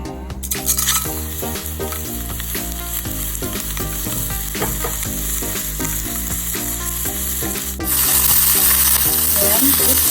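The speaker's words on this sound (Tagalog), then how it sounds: "I'm gonna fry the chicken pan." Chicken frying in a pan for Bacolod-style chicken inasal, a loud continuous close sizzle with occasional stirring and utensil clinks, the hiss growing brighter and stronger near the end.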